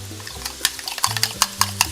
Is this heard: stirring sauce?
yes